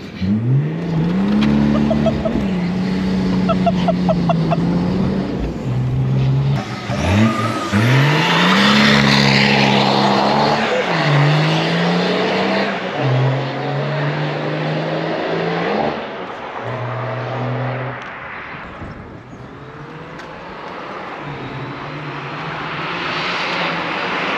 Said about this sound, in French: je les fais patiner jusqu'à l'enfer, les pneus